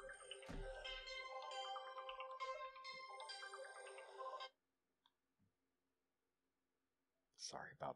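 A bright, melodic phone ringtone plays loudly for several seconds, then cuts off, leaving near silence before a brief burst of voice at the end.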